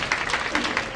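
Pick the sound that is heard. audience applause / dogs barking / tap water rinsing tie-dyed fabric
audience applause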